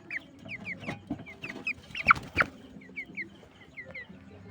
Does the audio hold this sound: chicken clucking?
yes